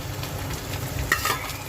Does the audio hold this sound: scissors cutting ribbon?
no